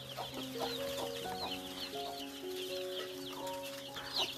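Four-day-old chicks on a small poultry farm in rural Konkan: a flock peeping in high, rapid overlapping chirps, with a few lower clucks beneath, fairly close and continuous.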